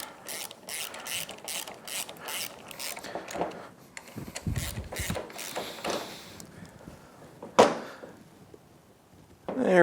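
Ratchet tightening bolts on a Yamaha F225 outboard fuel system during a rebuild, with rapid repeated pawl clicks in bursts and a few clunks, close and clear, and some speech in between.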